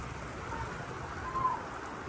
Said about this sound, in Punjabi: ਬਾਰਿਸ਼ ਬਹੁਤ ਜ਼ਿਆਦਾ ਹੈਗੀ